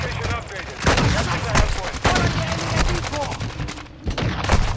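Rapid bursts of Vaznev rifle fire in a Call of Duty match on the District map, loud and dense, with repeated gunshot bursts layered over game noise throughout.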